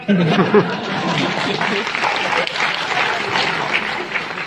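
An audience claps steadily throughout, a dense wash of applause with a few chuckles mixed in.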